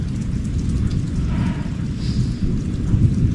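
A low, continuous rumble of thunder rolls along with steady heavy rain and lightning, deep and heavy throughout without breaks.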